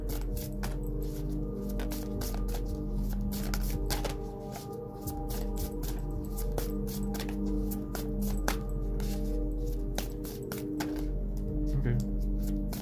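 A deck of animal cards is shuffled repeatedly, with rapid crisp riffling bursts in a steady rhythm, close by, while someone talks in the background.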